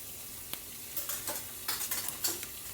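A masala of coconut, onions and ginger frying in a pan, with a soft steady sizzle and intermittent scraping stir strokes of a spoon against the pan, quiet and close.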